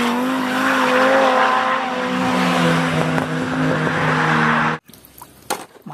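A toy race car whirs with a steady high motor whine and tire-squeal tones for nearly five seconds, then cuts off abruptly, leaving faint clicks and handling noise.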